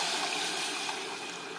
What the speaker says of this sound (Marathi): हे पाणी आहे ते आपण याच्यामध्ये ओतून घेणार आहोत